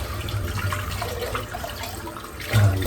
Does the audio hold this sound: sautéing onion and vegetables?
no